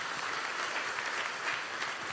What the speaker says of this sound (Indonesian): Kasih tepuk tangan bagi Tuhan kita